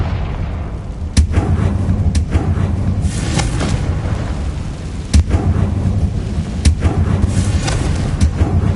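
The Confringo fire spell goes off repeatedly in Hogwarts Legacy. Several sharp, loud blasts break through over a constant heavy rumble of booming explosions.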